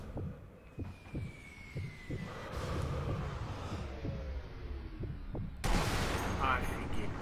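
Sniper rifle shots in the Sniper Elite V2 video game, fired at a moving target near a fire on the Opernplatz mission; a few sharp reports sound amid steady gunfire and battle noise, with a loud blast near the end.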